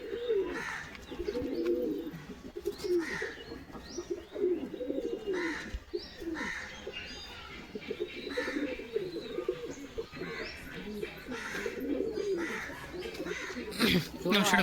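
Pigeons in a loft in Habra keep up a dense, rolling coo, many overlapping throaty calls close by in uneven pulses that continue with little pause.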